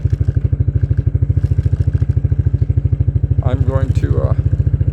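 An engine runs rough with the choke on, a loud, pulsing low chug with an uneven, lumpy rhythm throughout, while someone speaks briefly over it near the end.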